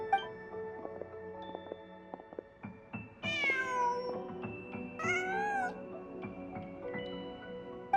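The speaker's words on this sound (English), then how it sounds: "Just a cat." A cat meows in the Genshin Impact video game, two drawn-out rising cries over soft chiming background music, fairly close and clear.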